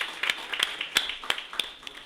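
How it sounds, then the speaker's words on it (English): Scattered clapping from a convention audience for Mzee Chandaria at a diaspora homecoming opening session, a thin, fairly faint patter of individual claps rather than a full ovation. "Can we give Mzee Chandaria a round of applause?"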